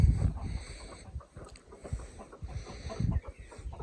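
Several chickens cluck and call close by in short irregular bursts, steady across the whole stretch with no talking.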